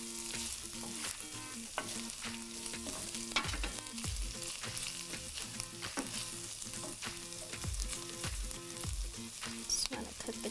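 Green onions cut into two-to-three-inch pieces sizzle in a hot pan with lamb and eggplant, a steady close frying hiss with repeated scrapes and clatters of stirring throughout.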